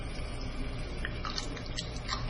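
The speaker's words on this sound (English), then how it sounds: "See it bubbling away." Minced garlic bubbles in hot oil in a wok on an electric stove, a steady soft sizzle with faint crackles and pops, close and quiet.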